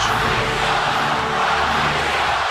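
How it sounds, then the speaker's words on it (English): A wrestling arena crowd in the WWE 2K22 video game, a Denver audience backing the Macho Man Randy Savage, roars as a dense, steady wash of cheering that stays loud and unbroken throughout, with no voices standing out. "listen to the crowd here in Denver"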